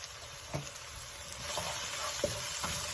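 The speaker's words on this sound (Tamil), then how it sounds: "வெங்காயம் சூப்பராக வதங்கிடுச்சுங்க" Onions sautéing in a pan for a roadside-style mushroom kalan gravy, a steady soft sizzle with a few sharper spoon-against-pan scrapes at intervals, close and moderately quiet, no voices.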